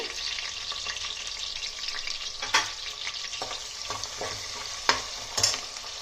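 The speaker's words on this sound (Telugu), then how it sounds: "ఇది లైట్ గోల్డెన్ కలర్ వచ్చేదాకా వేపుకుందాం." Food fries in hot oil with salt until light golden, giving a steady close sizzle broken by a few soft scrapes and taps of a stirring spoon.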